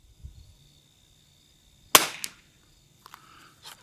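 A single sharp rifle shot cracks at a sporter rifle match on a windy range, followed by a short echo and a few faint clicks afterward.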